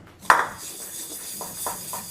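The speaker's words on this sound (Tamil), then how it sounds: "பார்த்தா தெரியல, சாமான் கழுவுனுக்குறேன்" Dishes being washed in a home kitchen sink: a sharp clink of a pot or plate, then softer scattered clatters of utensils over running background noise.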